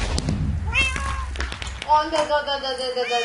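Cat meows from a Minecraft Block Hunt mini game, several short repeated calls over a low rumble of game sounds and movement, fairly loud and close.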